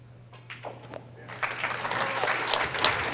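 Applause breaks out from spectators at a US Open 9-ball pool match, rising suddenly after a quiet moment with a faint hum and building into steady clapping that carries on to the end.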